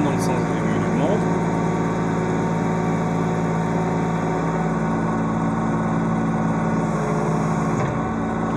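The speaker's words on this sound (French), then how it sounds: "Je ramène mon manipulateur sur la gauche, la machine tourne dans le sens des aiguilles d'une montre." A hydraulic excavator's diesel engine idles at a steady, loud drone with a constant low hum as the turret slews clockwise, the tone barely changing throughout.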